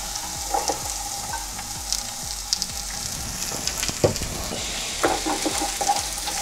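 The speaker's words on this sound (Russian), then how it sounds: "Так что обжарим лучок. Добавим маслице. Растительное и лук закинем." Chopped onions sizzle steadily in vegetable oil in a pan, a continuous close frying hiss broken by occasional clinks and stirring scrapes, with no voices.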